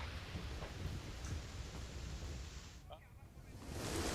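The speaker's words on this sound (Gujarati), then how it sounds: "અમદાવાદ શહેરમાં વરસાદ થઈ રહ્યો છે" Steady rain falls across Ahmedabad city, a dense, continuous hiss that swells louder near the end, with faint voices beneath it.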